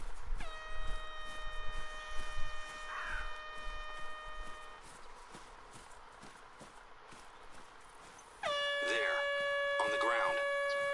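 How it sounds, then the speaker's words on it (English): An air horn app blaring in the hunting video game Call of the Wild on Silver Ridge, two long loud tonal blasts separated by a pause, with outdoor ambience and people talking faintly around them. "It's an air horn."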